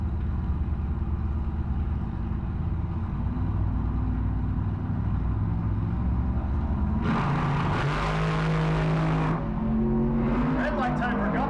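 Drag racing cars launching side by side at a Kearney car cruise night roar loudly and continuously, with engines revving and a burst of acceleration partway through, under a talking announcer.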